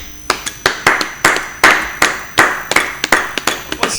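A church congregation claps in acclamation, loud sharp hand claps in a steady, slightly uneven rhythm of about a dozen strikes, close and dense with no voices over them.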